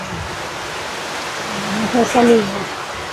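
Heavy rain pouring steadily as a dense, constant hiss throughout, with a person speaking briefly over it near the end.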